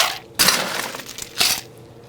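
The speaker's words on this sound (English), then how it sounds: "So add ice to that." Ice cubes tumble into a rocks glass for a bourbon julep, two loud bursts of rattling, clinking cubes against glass with scattered smaller clinks between, close up and without talk.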